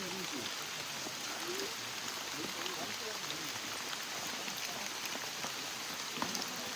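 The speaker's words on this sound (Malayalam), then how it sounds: "മഴ." Steady rain falls in the hills during a family outing, a soft, even wash of drops hissing continuously at a constant level with faint background voices.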